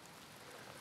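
Rain falls steadily in woodland, making a faint, even, hissing patter with no gaps and no voices.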